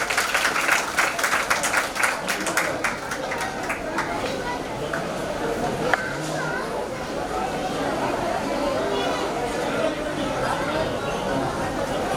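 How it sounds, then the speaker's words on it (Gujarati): An audience at an ashram full-moon gathering in Mota Varachha, Surat, claps loudly for donors. The clapping is dense and rapid at first, then thins into crowd chatter while a voice speaks over it. "આ બધા જ દાતાઓને જોરદાર તાળીઓથી વધાવી લો."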